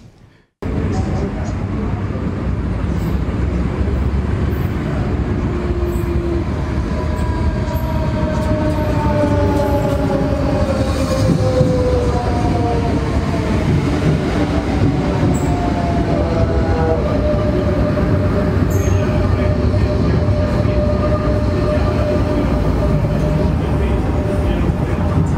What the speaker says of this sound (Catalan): Aquest tren que aquest any doncs, està d'aniversari a Mataró